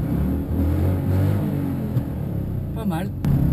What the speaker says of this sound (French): Au niveau du bruit moteur